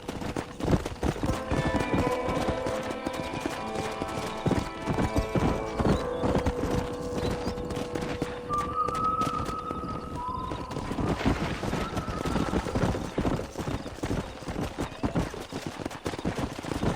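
Horse hooves clip-clop steadily through a Red Dead Redemption game scene with a stallion, joined by a whinny midway, loud and continuous over ambient game sound with occasional faint voices.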